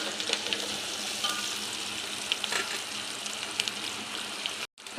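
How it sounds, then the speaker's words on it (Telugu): Onions frying in a pan for paneer biryani make a close, steady crackling sizzle with a few sharp spattering pops. The sound cuts out briefly near the end. "ఇలా వేసేసుకొని బాగా ఫ్రై చేసుకోవాలండి"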